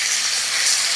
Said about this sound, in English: it's gonna get really loud because it's high. It's medium high heat, but we're sizzling